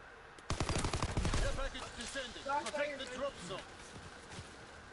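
Rapid automatic gunfire from a PPSh submachine gun in a video game, a dense burst of cracks followed by scattered shots, loud and close, with a player talking over it.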